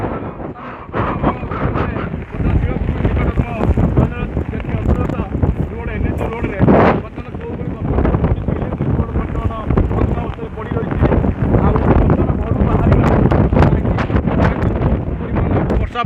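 Strong gusts from Cyclone Bulbul batter the microphone outdoors in Rajkanika, a loud continuous rumbling roar with buffeting surges, while someone talks over it.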